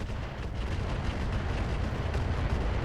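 Mech weapons firing in the video game RogueTech, a BattleTech mod, as a continuous heavy rumble of blasts and booms with dense low-end roar, loud and unbroken, no voices.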